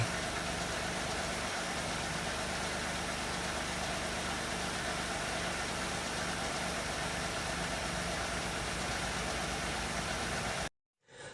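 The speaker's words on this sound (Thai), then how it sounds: "เสียงเครื่องยนต์เดินนิ่งเรียบนะครับ" A 2000 Nissan Cefiro A33 2.0 automatic idles steadily and evenly, close up, a constant hum with faint rhythmic ticking, ending abruptly in a brief silence.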